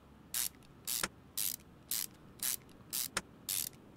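Tightening screws in Car Mechanic Simulator 2021, a ratchet clicks in short, evenly spaced bursts, about eight crisp ratcheting strokes at a steady rhythm with faint background between them.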